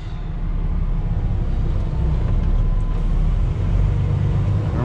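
A truck pulling away on a snowy morning, its engine a loud, continuous low rumble that holds steady throughout with no voices.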